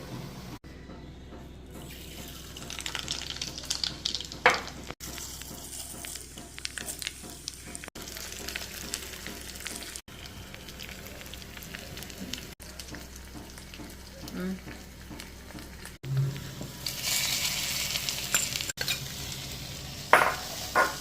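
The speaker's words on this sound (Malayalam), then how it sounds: "ഇനി നമുക്കിതിലോട്ട് കടുക് പൊട്ടിച്ചൊഴിക്കാം" Mustard seeds sputter and pop in hot oil being poured over a cooked leaf thoran, with a steady sizzling hiss, scattered crackles, and some clatter of stirring and a running tap mixed in.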